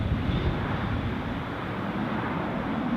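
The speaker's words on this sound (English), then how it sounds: "Although I suspect they'd have to respect the GE90 engines." A large airliner with GE90 engines landing at Newcastle Airport, heard as a steady, loud broad roar of engine and rushing air that holds for the whole stretch on a windy day.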